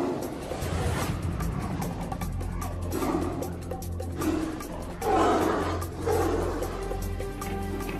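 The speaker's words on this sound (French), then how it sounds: "on entend encore leur rugissement gronder" Tigers in the arena at Fort Boyard, the sea fort of the televised game show, give deep growling roars that swell and fade over a low rumble, with the loudest bursts near the end.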